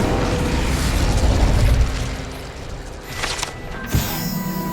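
The Incendio fire spell cast in the video game Hogwarts Legacy, a loud whooshing burst that fades, followed by a mechanical rumble and a sharp pop, with no voices.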